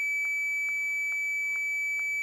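A model level crossing alarm beeps in a steady, evenly spaced series of five short electronic tones over a constant high whine, fairly quiet and with no voices.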